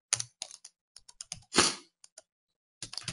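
Typing on a computer keyboard while writing Selenium WebDriver code, with short bursts of crisp key clicks separated by pauses and one longer clattering run near the middle, close and alone without talk.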